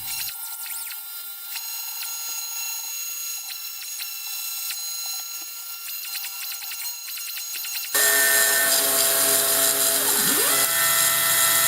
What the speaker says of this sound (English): let's try and cut a test PCB anyway